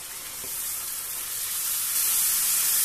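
Spice paste and tomato paste hit hot oil in a pan for a paneer curry, giving a steady, loud, bright sizzle that swells slightly and continues evenly without any talk.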